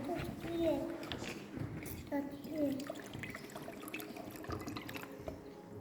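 Water trickles and splashes steadily nearby while something is stirred through it, with faint voices talking in the background.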